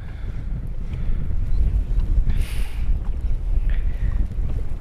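Strong wind buffets the microphone in a continuous low roar while pike fishing, gusting throughout with faint outdoor sounds in the background.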